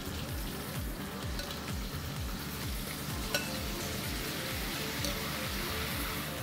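Beef searing with sliced onion rings and garlic in a hot pan, a steady close sizzle with rapid rhythmic crackling and stirring scrapes throughout, no voices over it.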